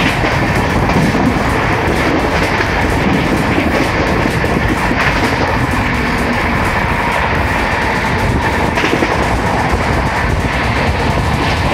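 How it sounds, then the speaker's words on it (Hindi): Howrah Mumbai Mail express running at 130 km/h, heard from inside an AC 3-tier coach, as a loud, unbroken rumbling roar with rapid rhythmic clatter from the wheels throughout, and no talk. "अभी हम स्टेशन स्किप कर रहे हैं 130 किलोमीटर प्रति घंटे की स्पीड से।"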